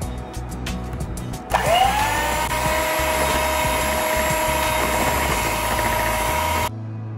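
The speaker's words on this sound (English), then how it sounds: "Now we add egg yolk and vanilla essence. Mix it well." Egg yolk and vanilla essence whirred together for a coconut macaroon cake, an electric hand mixer starting with a rising whine and running steadily and loudly before cutting off.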